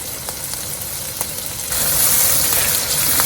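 A paste of cashews, poppy seeds and onion is poured into a hot pan. A low background hiss swells into a louder, steady broadband sizzle partway through and holds. No voices.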